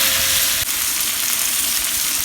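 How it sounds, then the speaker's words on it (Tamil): Country chicken pieces frying in hot oil and masala while being stirred, a steady close broadband sizzle with one brief scrape of the spoon early on. "எண்ணெயிலையும் மசாலாலையும் நல்லா கறி வேகட்டும்"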